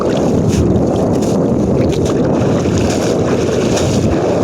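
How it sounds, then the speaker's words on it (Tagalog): Strong wind buffets the microphone in a constant, heavy roar, with gusty rumbling filling the whole stretch and no voices. "Medyo kusog hangin guys ba."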